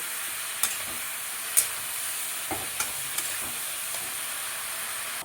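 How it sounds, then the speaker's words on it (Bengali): Fish curry liquid bubbling away in a cooking pot, a steady soft hiss with scattered light pops and a few faint knocks, fairly quiet, with no talking. "দেখো বন্ধুরা মাছের জল যত সুন্দর ফুটছে টকবক টকবক করে ফুটে"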